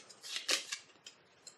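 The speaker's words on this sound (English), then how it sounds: "Shuffle." A deck of cards riffled during an Arkham Horror board game, a quick, quiet burst of crisp flutter followed by a couple of light snaps, close by with no talk.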